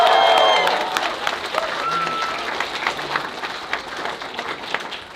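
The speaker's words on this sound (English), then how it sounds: "Give them another big round of applause" At a 2D animation cartoon premiere, an audience applauds the animation team with a loud burst of clapping that settles into steady, scattered claps, with voices and a few whistles mixed in.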